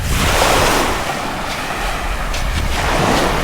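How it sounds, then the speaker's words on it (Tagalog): Sea surf rolls continuously onto a black sand beach at San Antonio, Zambales, a loud close wash of breaking waves mixed with wind buffeting the microphone. "Mga dagat."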